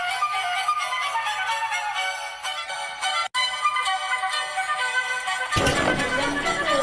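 A neighbour's phone plays a melodic ringtone that runs steadily for several seconds, then ends in a louder, noisier burst, with no talking.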